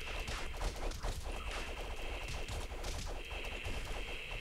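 Castle Crashers video game battle with dense, continuous bursts of grenade explosions and combat crashes, loud and chaotic throughout with no clear gaps.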